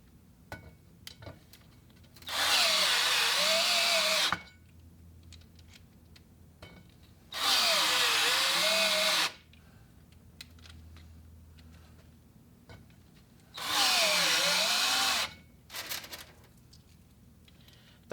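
Power drill driving screws into a beadlock wheel, three separate whirring bursts of a couple of seconds each with quiet gaps between, close and loud, with light tool clatter and taps in between.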